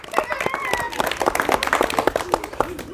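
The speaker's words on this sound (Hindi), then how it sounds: "ताली मारो लड़के।" A boy claps his hands during a street performer's comedy act, a quick run of sharp, uneven claps close by, mixed with people talking over them.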